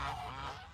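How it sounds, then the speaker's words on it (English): A single short goose honk sounds, fairly faint and brief, with no voices around it. "I need to do something about this goose mother."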